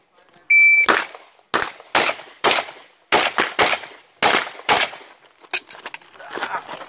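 Gunshots at a shooting range during a timed string: a beep starts it, then a rapid irregular series of around a dozen sharp, loud reports with short gaps, the last few echoing more faintly.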